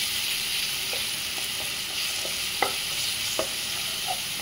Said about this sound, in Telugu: ఇప్పుడు మనం అల్లం వెల్లుల్లి పేస్ట్ యాడ్ చేసుకున్నాము స్పూన్. ఇది పచ్చివాసన పోయే వరకు ఫ్రై చేసుకోవాలి.